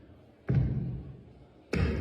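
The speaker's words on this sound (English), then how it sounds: "That is the sound of someone in an art exhibit hitting a mound of butter with a microphone." A microphone strikes a mound of butter in an art exhibit, giving two dull, soft thuds about a second apart with a muffled room tone between them.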